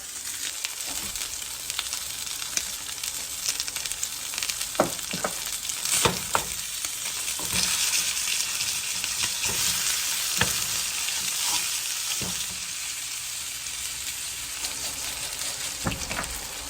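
Pan-frying with thyme for a Marsala dish, a steady crackling sizzle that swells in the middle with occasional sharp clicks and scrapes of stirring, close by and with no speech.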